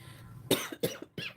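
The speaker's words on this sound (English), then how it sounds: "Why do I always clear my throat?" A person clears their throat in three short, harsh bursts spaced about a third of a second apart, close and fairly loud against a quiet room.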